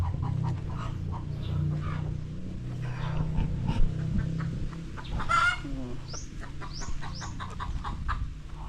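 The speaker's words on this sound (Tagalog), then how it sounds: "Pag naggaganyan po yung manok, ibig sabihin marabit na mangitlog." Hen clucking in a poultry yard as she gets ready to lay eggs, a string of close, repeated clucks and squawks with other chickens and faint rustling around her, plus brief distant calls.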